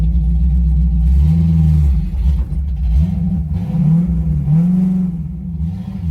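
A lowered box Chevy with an LS engine swap and a manual gearbox accelerates on the road, its engine rumbling loud and close as the revs climb and dip through several gear changes, with no talking.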